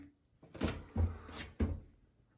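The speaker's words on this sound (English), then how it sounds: "the door swings properly and doesn't impact" A glass shower door swings on its adjusted hinges against a glass wall, giving three or four close knocking thumps in quick succession, alone and fairly loud.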